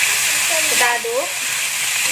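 Carrots, potatoes, spring onions and celery leaves sizzle and hiss steadily while being stirred in a frying pan, with a short stretch of a voice talking over the frying.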